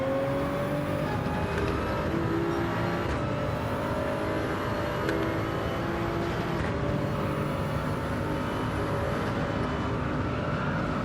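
A Toyota Supra GR3 race car in the Gran Turismo 7 video game at speed: a loud, sustained engine drone with rising and falling gear pitch and brief shift breaks, steady and close throughout.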